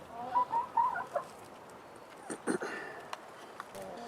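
Chickens in a backyard coop, including a fluffy-headed Polish hen, cluck and murmur in short bursts, a few brief calls rising over quiet rustling at close range.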